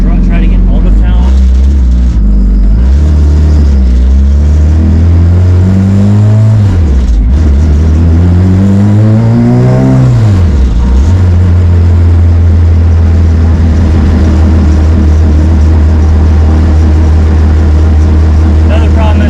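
A Honda Civic with a B18 engine revs loudly and close, engine pitch climbing and dropping through several sweeps before settling into a steady drone while driving.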